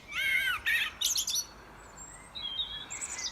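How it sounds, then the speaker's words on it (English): Blackbirds sing at dusk, close by and clear, with fluting phrases broken by short pauses and a few higher chirps. No voices are heard. "All the blackbirds are just saying goodnight."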